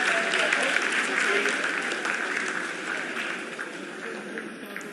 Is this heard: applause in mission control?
yes